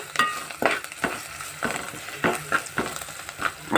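Bitter gourd fry being stirred with fresh coriander in a pan: steady, rhythmic spatula scrapes and clatters, about one stroke every half second, ride over a continuous close sizzle with no voices.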